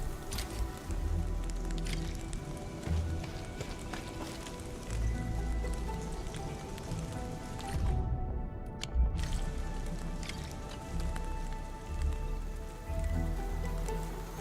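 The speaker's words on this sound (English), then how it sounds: "Rain. Splattering rain." Steady splattering rain in a gacha video game, a dense continuous patter with a soft low rumble underneath, even in loudness for the whole stretch.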